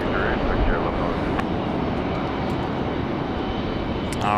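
A Frontier Airlines jet roars loud and steady as it takes off from runway 23 right at Raleigh-Durham International Airport, with broadband engine noise filling the whole stretch.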